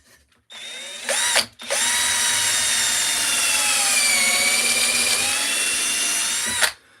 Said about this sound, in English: It's always harder to drill a knot, as you know.